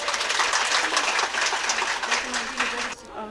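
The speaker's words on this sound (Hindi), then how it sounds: "तो एक ताली उनके लिए बजा दीजिए आप।" Audience at a prize distribution ceremony claps together in a dense, continuous burst of applause that cuts off near the end.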